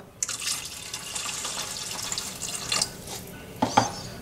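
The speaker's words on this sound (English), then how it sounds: "Now again I am going to add 1 cup of water." Water pours steadily from a tap into a pan holding rice and tamarind extract, a continuous splashing fill that rises near the end with a few louder gurgles.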